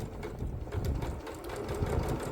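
A sewing machine runs a slow, careful straight stitch along fabric for a handmade book sleeve, a steady close whirring chatter with no break.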